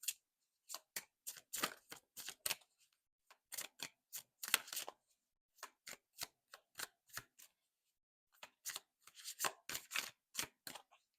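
Tarot cards are shuffled and drawn, heard as bursts of crisp riffling and slapping card sounds separated by short silences, close and fairly quiet.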